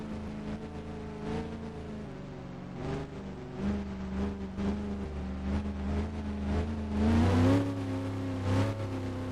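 Race cars in a racing video game accelerate behind an Aston Martin pace car, a series of rising engine revs and whines that repeatedly swell and drop, growing louder and denser toward the end.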